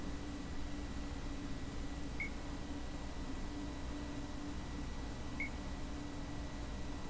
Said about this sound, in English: Do you hear that beeping?